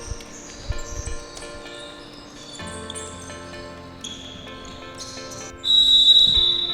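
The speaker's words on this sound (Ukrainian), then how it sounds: "Стартовий свисток матчу nice Guy's та Галицька здоба уже пролунав" A referee's whistle blows at the start of a futsal match in an indoor hall, a sustained shrill tone rising near the end over court echoes, squeaks and ball bounces, with no talk.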